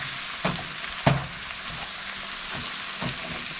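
Ground meat browns in a hot pan for shepherd's pie, giving a steady close hiss and sizzle with a few sharper crackles and stirring scrapes. No one talks.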